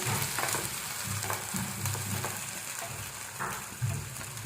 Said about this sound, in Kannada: ಸ್ವಲ್ಪ ಫ್ರೈ ಮಾಡ್ಕೊಳ್ತಾ ಇದ್ದೀನಿ, ರೋಸ್ಟ್ ಮಾಡ್ಕೊಳ್ತಾ ಇದ್ದೀನಿ.